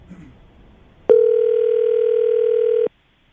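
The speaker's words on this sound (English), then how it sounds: "we're going to call Lisa right now, get her on the phone" A steady telephone dial tone sounds loudly and alone for nearly two seconds after a faint bit of background noise, then cuts off abruptly as a call is placed during a morning radio show.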